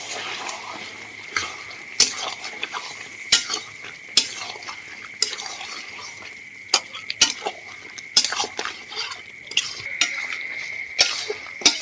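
Chicken curry with green chilies is stirred and mixed in a pan for a Bengali desi chicken jhol, sharp rhythmic clinks and scrapes of a utensil against metal over a light sizzle, close and without talking.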